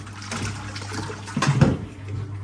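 A 1958 Hotpoint Empress washing machine churning water during its wash cycle, a steady low hum with sloshing and splashing that swells briefly in the middle.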